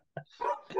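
A dog barks a few times in quick succession, fairly close and moderately loud, heard alone during a sports fantasy podcast.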